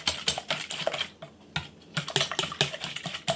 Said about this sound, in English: Now we're gonna whisk those eggs. Whisk them really good.